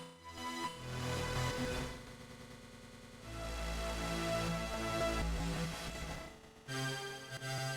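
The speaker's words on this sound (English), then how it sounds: "it gives it kind of a granular delay" Arturia 2600 synth run through a glitch delay effect in Bitwig, giving a dense, stuttering granular texture with shifting bass pulses and smeared repeats, loud and continuous with brief dips.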